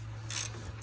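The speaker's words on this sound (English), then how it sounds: "I'll just ratchet that off" Ratchet loosening a front brake caliper bolt on a 2011 GMC Terrain, two quick bursts of metallic clicking close by over a faint low hum.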